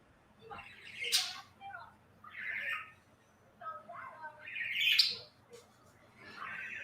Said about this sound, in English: I heard a bird.